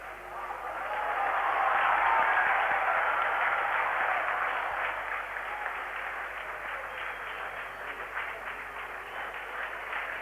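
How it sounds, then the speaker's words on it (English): A large cricket stadium crowd in Karachi applauds steadily through a 1987 World Cup one-day match between Pakistan and England. The dense, continuous clapping swells early, then eases to a sustained, slightly softer ovation with no voices over it. "the applause for 100 up of 156 balls"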